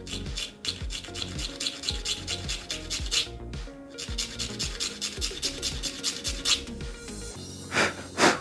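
Sandpaper files the pin of a Gateron mechanical keyboard switch in quick, close, rhythmic rasping strokes, paused briefly once, then ending in a couple of louder scrapes.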